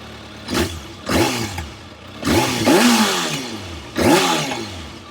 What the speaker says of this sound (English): There's a couple of revs coming, and of course the bike will be on.